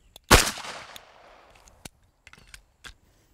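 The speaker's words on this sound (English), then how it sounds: "I'm going to break the shot, track the sight, and break the shot again." A single sharp handgun shot cracks out loud and close at a shooting target, its report ringing briefly before a few faint clicks and taps follow alone.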